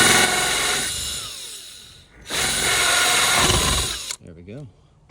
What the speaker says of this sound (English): Now I'm cutting these holes with the drill